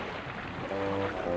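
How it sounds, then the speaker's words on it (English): A cartoon flatbed truck splashing into a canal gives a brief, faint watery rush that swells into a fuller wash near the end. "then splash into the canal"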